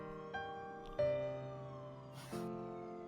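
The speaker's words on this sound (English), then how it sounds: "In the distance, she could faintly hear the sound of police sirens." Police sirens in the 428 Shibuya Scramble game, wailing tones that sound distant and faint, shifting pitch several times over a steady hum, with no voices.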